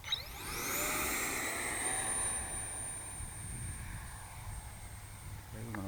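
Whining electric ducted fan of a FreeWing Rebel 70 RC jet spooling up outdoors, a rising high-pitched whir that settles into a steady hum, with a voice heard faintly.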